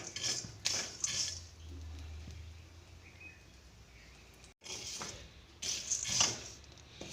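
Pumpkin seeds roasting in a pan are stirred in short bursts of scraping and metallic clinks, faint and close, with quieter gaps between strokes.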